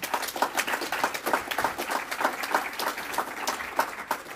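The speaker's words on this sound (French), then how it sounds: "Merci Mathilde Delforge, on peut l'applaudir" An event audience at Start noW! 2021 applauds a presenter, a lively patter of many hands clapping with individual claps audible, steady and fairly quiet, without speech.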